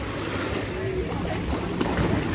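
Waves wash steadily onto a white-sand beach at Ksamil, Albania, with a soft, continuous rush, a breezy hiss over it and faint voices nearby.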